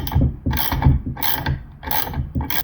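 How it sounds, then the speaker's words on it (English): A ratchet tightens a nylon nut on a boat motor's propeller shaft in rapid, repeated clicking strokes, loud and close, five or six bursts of metallic ratcheting in steady rhythm with no talk. "Grab your ratchet"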